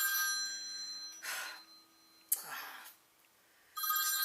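A phone rings in short repeated bursts over a faint steady hum, with quiet gaps between the rings.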